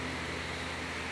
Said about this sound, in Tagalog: electric fan.